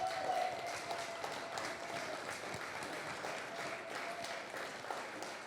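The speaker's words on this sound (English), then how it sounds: "You could have clapped a lot harder." An audience applauds after a speech about a charity walk, giving several seconds of steady, moderately dense clapping from a crowd indoors.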